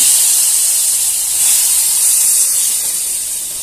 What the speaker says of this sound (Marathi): आता आपण त्याच्यामध्ये घालून घेऊया डाळ बटाटा टॅमॅटो